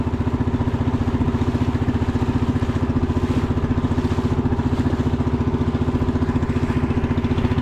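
A boat engine with a faulty piston runs steadily on a lake, a close, loud, rapid chugging rhythm without pause throughout.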